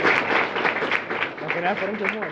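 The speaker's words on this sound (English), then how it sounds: "Applaud that." A gathering applauds with a steady wash of clapping, and a voice talks over the clapping throughout.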